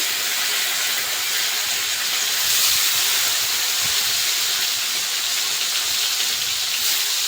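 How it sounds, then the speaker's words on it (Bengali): Amudi fish frying in hot oil in a wok, a steady broad hiss and sizzle that holds evenly throughout with no talk. "খুব বেশি কড়া করবো না, একটু হালকা করে ভেজে নেবো।"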